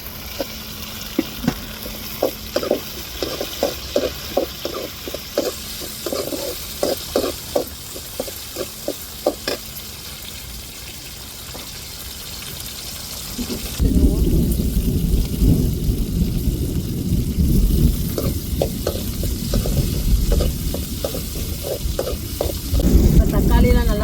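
Tomatoes and chillies fry in a pan on a rainy night, with a sizzle under rhythmic ladle scrapes and taps, and heavy rain and rumbling thunder rising loudly about halfway through.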